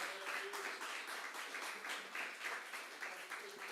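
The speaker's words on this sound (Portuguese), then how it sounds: "Aplauda ao Senhor, glorifique o nome do Senhor." A church congregation applauds during worship, a faint, somewhat distant patter of many hands clapping in loose pulses, with a few voices faintly murmuring underneath.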